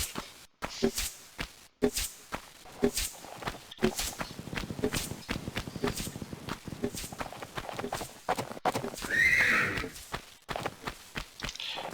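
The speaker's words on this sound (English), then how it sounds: "that sound of hooves and that horse-like sound may be a bit scary" Hooves of a centaur in the Atlantean Stronghold of the Tomb Raider video game thud in an irregular run of heavy steps, with a short horse-like cry late on, moderately loud with no talk.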